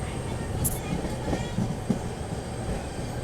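A passenger train runs slowly through Ajjampura station in light rain, giving a steady low rumble of wheels and carriages with a few faint clanks and a brief high squeal; it is heard from on board.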